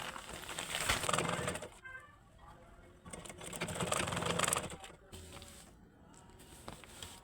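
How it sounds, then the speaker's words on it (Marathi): A sewing machine runs in bursts as it stitches a zipper and fabric together for a bag, with fairly loud, steady whirring runs broken by short pauses and a few handling sounds. "आता बघा मी चेन आणि हा कापड दोन्ही आता शिलाई करून घेते"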